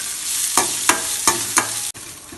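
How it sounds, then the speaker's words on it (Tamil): Onions and dried chillies fry in a pan under a constant close sizzle, with four evenly spaced stirring scrapes and a short break in the sound near the end. "இப்போ பாருங்கள், இந்த வெங்காயம் நல்லா செவந்து போச்சு."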